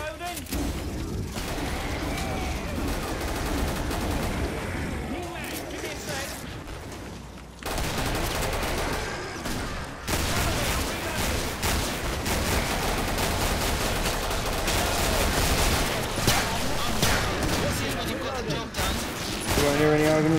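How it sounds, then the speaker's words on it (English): Rapid bursts of automatic gunfire and shots crackle almost nonstop in a Killing Floor co-op match aboard a space base, loud and close, while players talk over the shooting. "what all this gunfire is doing to the superstructure of this space base"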